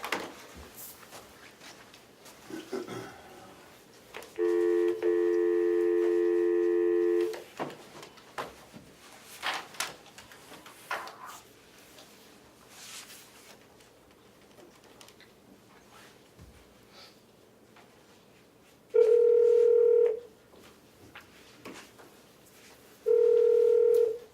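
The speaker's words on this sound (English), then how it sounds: "we can give Roxy a call to answer some of the questions that anyone had" Over a conference line at a county commission meeting, a long ringback tone sounds early on, then two more rings follow after a quiet stretch with faint room noise between them.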